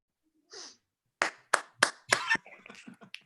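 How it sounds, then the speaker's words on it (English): An audience claps in unison, a few sharp, close hand claps in quick succession, followed by a looser patter of softer claps and snaps. "All right, so two claps and a snap."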